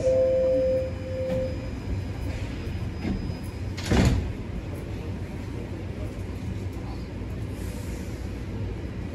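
Toronto TTC Line 1 subway train doors sliding shut at a station, a short whoosh and thud amid steady rumbling train and platform noise, with a brief chime tone at the start.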